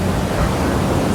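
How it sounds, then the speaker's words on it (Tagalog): Strong surf breaking on an Indian Ocean beach in Mirissa, Sri Lanka, a steady loud broadband wash of waves with wind buffeting the microphone, no voices. "Ang lakas ng alon."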